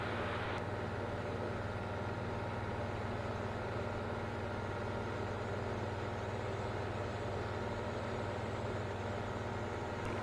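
Steady low drone of a small airplane engine climbing just after liftoff, heard from inside the cabin as a constant rumble with no breaks or talk.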